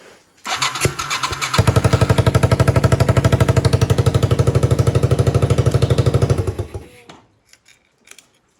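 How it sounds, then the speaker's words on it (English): A Yamaha 225DX Tri-Moto three-wheeler under restoration is started, its small engine cranking briefly before catching and running in a loud, close, fast rhythmic putter for about five seconds, then shutting off. A few faint clicks follow. "You want to start it up and see if the keyed ignition works?"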